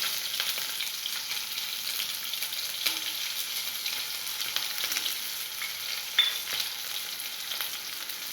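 Small onions frying in a pan for bottle gourd peanut poriyal give a steady, close, hissing sizzle with faint occasional crackles and no talk.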